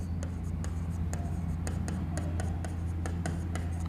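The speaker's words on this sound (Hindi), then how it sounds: "इधर लिखेंगे" Chalk or marker strokes on a classroom board during a chemistry lesson, a series of short scratchy taps and strokes at a steady pace over a loud, constant low hum, with no talking.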